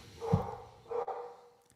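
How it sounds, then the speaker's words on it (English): A dog named Sadie barks twice from downstairs in a house, each bark muffled and moderately distant, with quiet gaps around them. "that is Sadie barking downstairs"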